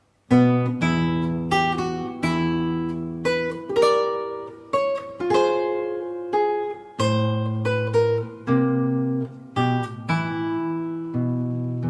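Fingerstyle acoustic guitar plays the Harry Potter theme with a two-note double-stop motif and thumbed bass notes, a steady sequence of plucked notes and chords ringing out close and clear with no voices.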